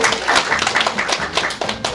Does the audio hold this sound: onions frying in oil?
no